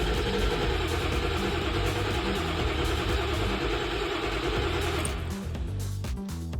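A Ford Powerstroke 7.3 diesel engine cranks over steadily on the starter for several seconds during hard-start diagnosis, a loud, dense, rhythmic churn that drops off near the end with no one speaking.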